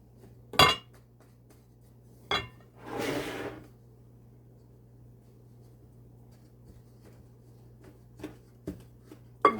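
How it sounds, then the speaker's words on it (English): Blueberry cornmeal muffin batter being mixed in a bowl, heard as a few sharp clinks and knocks of a utensil against the dish, spaced apart with one longer scraping burst, over a quiet room. "So just incorporate all of this together, mix them all up."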